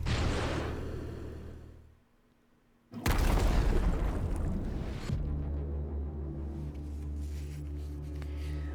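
Heavy bombing explosions in the video game The World Well: Blood of Caro: a loud, dense roaring blast that fades into near silence, then a second sudden booming burst that rolls on into a sustained rumbling tail.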